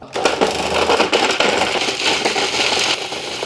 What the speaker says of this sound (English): inside of the food processor and hit the button.